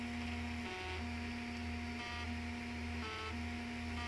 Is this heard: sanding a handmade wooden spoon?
no